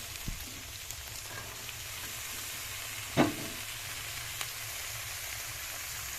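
Onion, carrot, cauliflower, broccoli, peas and capsicum frying in a pan for chire pulao, a steady soft sizzle running throughout with one brief sharper crackle midway, no talking.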